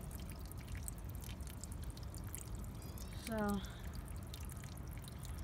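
Water is emptied out of a container, a steady pouring and trickling with a brief gurgle, fairly faint and close, while a person speaks briefly.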